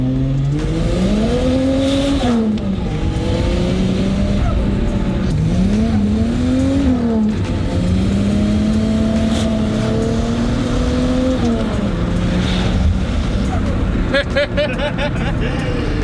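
A turbocharged Ford Falcon AU on a budget turbo setup pulls hard, its engine note climbing through several gears with brief dips at each shift, loud and close from inside the car.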